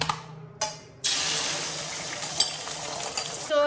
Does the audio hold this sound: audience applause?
no